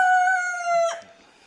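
Aseel fighting rooster crows once, loud and close: a strong, sustained harmonic call that breaks off near the end, with no talking.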